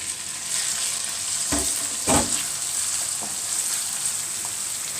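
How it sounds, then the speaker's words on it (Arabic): Chopped onion fries in ghee in a pan, giving a steady, close sizzle with a couple of soft stirring scrapes. No one talks. "حمريها لحد ما يبقى لونها ذهبي"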